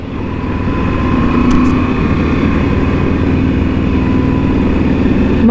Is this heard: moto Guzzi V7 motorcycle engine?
yes